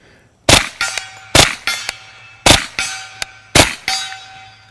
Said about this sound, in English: 100 rounds downrange. Pretty rapid succession with this gun.